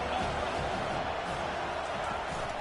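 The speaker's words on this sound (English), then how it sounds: "the crowd really making some noise now" Stadium crowd noise from the College Football 25 video game forms a dense, continuous roar at moderate volume as the defense lines up near the goal line, without distinct peaks.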